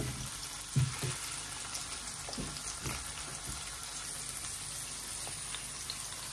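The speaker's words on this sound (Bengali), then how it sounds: "এখন এই যে কুমড়াটি ভেজে নিতেছি" Pumpkin slices frying in a pan as a quiet, steady sizzle, with a few soft knocks and scrapes near the start.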